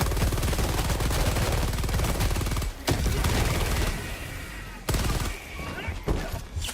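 The Epoch weapon in a multiplayer video game fires in rapid, heavy bursts, a dense crackling barrage with a few abrupt pauses between volleys, while players speak over the gunfire.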